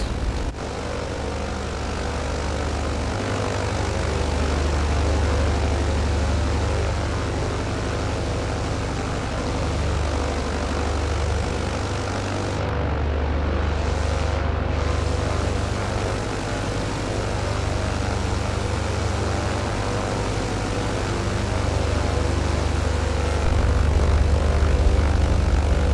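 A plane's engines drone steadily on landing approach to a very short runway, a loud continuous propeller-and-engine hum with a deep low rumble that holds level throughout, close and unbroken, with no talk over it.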